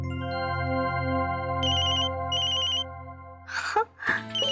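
A telephone rings with a steady electronic ringtone, repeating in short bursts, loud and close; a few brief voice sounds come near the end.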